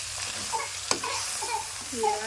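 Spinach frying in a pan for a village-style palak pulao gives a steady, close sizzle, with a faint voice in the background.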